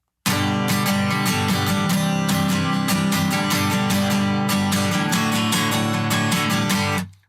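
An acoustic guitar is strummed continuously with a very thin pick held in a tight grip, giving steady, loud, bright, clacky strokes for about seven seconds with no talking.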